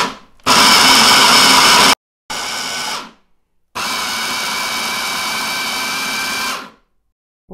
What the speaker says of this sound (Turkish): Mikserimizi çalıştıralım